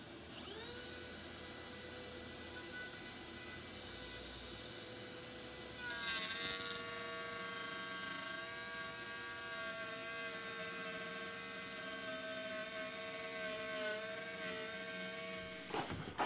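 A router cuts a T-track groove into a wooden jig, producing a continuous high-pitched motor whine that grows louder and harsher as the bit bites into the wood, then stops abruptly at the end.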